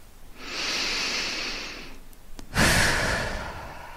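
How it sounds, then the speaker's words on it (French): Deep, invigorating breaths during a sophrology relaxation session: a long, hissing inhale followed after a short pause by a stronger, forceful exhale, close to the microphone, with no talking. "je peux augmenter un peu mon niveau de vigilance par une respiration plus tonique"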